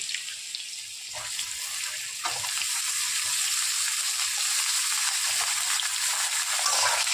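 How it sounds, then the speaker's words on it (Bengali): Eggplant frying in a pan with turmeric and salt for a hilsa fish curry gives a steady, close hiss of sizzling oil that runs the whole time, with no voices. "বেগুনটাও ভাজা হচ্ছে"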